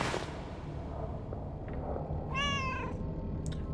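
A cat character in the video game The Killing Stone lets out one clear harmonic meow over a steady game backdrop of music and ambience.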